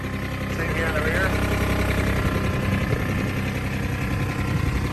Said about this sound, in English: you have to have the engine running to be able to lift the bed